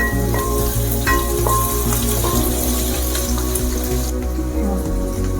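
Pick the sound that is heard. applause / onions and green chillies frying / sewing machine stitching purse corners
onions and green chillies frying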